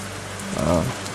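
Steady rain falls on a newly paved asphalt driveway, making a continuous close hiss of drops on the hard surface, with a brief tonal swell rising and fading midway.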